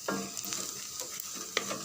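Small onion sautéing in two to three spoons of oil in a pan, with a soft steady sizzle broken by scraping stirs of a ladle, close and moderately loud, no voices.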